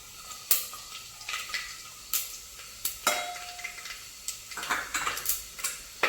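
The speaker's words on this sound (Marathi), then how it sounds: "काळे मिरे आणि लवंग चक्रीफूल आणि जिरे हे नीट मिक्स करून घ्यायचे" Whole black pepper, cloves, star anise and cumin stirred in a pan, with repeated scraping and clinking of spoon against metal at an uneven rhythm, close and fairly quiet, no talking.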